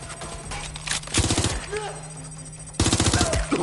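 Video game gunfire: two rapid bursts of automatic shots, close and loud, separated by a brief lull, with speech and other game sounds underneath.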